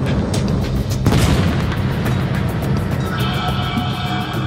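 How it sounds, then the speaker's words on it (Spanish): Heavy naval gunfire booms thud over a constant roaring din during the D-Day bombardment of German defenses, with a sharp blast near the middle and rumbling noise carrying on throughout. "Los primeros disparos."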